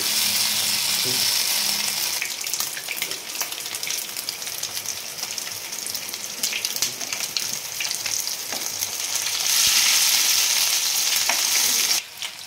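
Bhetki fish pieces fry in oil in a saucepan for Kolkata-style chilli fish. A loud, steady, close sizzle carries on throughout and cuts off abruptly near the end.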